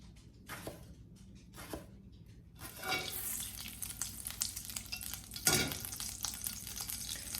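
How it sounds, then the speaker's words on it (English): Butter browning in a pan as the base for a banana galette filling: faint rustles at first, then a rising frying sizzle with bursts of crackle and stirring, close and fairly quiet. "So I'm just browning this butter, which is going to be the base for my galette filling."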